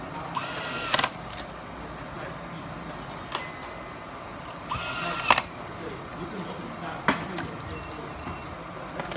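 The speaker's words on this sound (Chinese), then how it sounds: "装回三个螺丝" An electric screwdriver drives screws back into a fan motor in two short, sharp whirring bursts a few seconds apart, close up, with faint clicks and handling noise between them.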